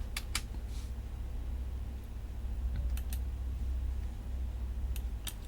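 Scattered keys click on a computer keyboard during PCB design work: a pair of taps early, then isolated clicks later, close-by and light over a constant low room hum.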